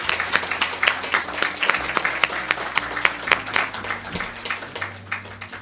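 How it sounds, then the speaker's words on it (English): Applause fills a hall at an awards ceremony celebrating Hispanic influence, steady clapping from a modest audience with distinct individual claps standing out, lasting several seconds over a low background hum. "Let's give them an applause."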